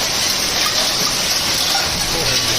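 Heavy hail pounding down during a winter storm in Rajasthan, a dense, steady roar of ice striking surfaces close by, continuous and loud with no pauses.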